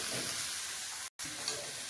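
Cabbage tipped into a pan of fried onions sizzles steadily with a loud, dense frying hiss, broken by a brief gap partway through before the sizzle carries on.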